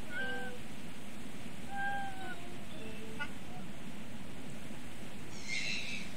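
A cartoon cat in The Little Acre adventure game meows several times in short, slightly rising calls. The meows sit over a steady hiss of game ambience, with a brief brighter sound near the end.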